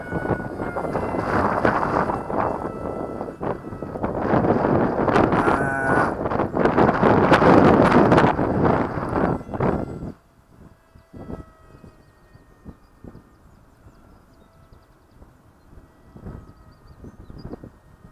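Strong outdoor wind buffets the microphone in loud, roaring gusts for about ten seconds, then drops to a quieter, intermittent rumble.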